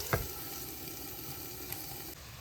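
Fresh mussels steaming in a covered pan give off a steady, faint hiss and sizzle, with a brief clink near the start and a continuous low simmer throughout.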